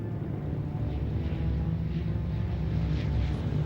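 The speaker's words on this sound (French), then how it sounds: "Par avion, Navarre fait acheminer des troupes nombreuses de la base aérienne d'Hanoï et de Cat Ba à Haiphong." A military transport aircraft flying troops out of Hanoi air base, a steady, loud propeller-engine drone with a constant low hum and no breaks, heard on an old 1955 documentary soundtrack.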